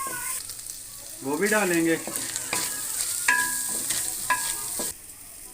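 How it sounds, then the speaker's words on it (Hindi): Vegetables with capsicum frying and being stirred in a pan for a Chinese noodle dish, a steady sizzle with a few scraping stirs and clinks. Brief speech is heard over it. "ये सारी जो सब्ज़ी हमने हाफ फ्राई की है इसको हम निकाल लेंगे।"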